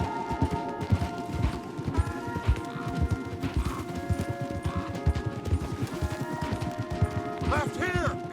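Horses galloping hard in a video game, rapid dense hoofbeats drumming steadily close up throughout, with a whinny near the end and voices speaking over the running.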